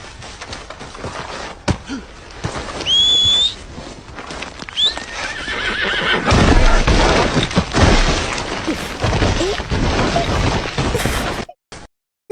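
A horse in a physics-heavy video game neighs and whinnies, its hooves clip-clopping before it tumbles into a loud, sustained crashing fall with heavy thuds and clatter, the noise cutting off abruptly at the end.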